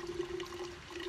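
Water pouring steadily out of a bottle, a continuous gushing stream with no talk over it, held at a constant, fairly loud level for the whole moment.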